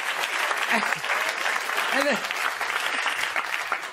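Steady applause from a comedy show crowd fills the whole stretch, dense and continuous, with a couple of brief voices or whoops poking through.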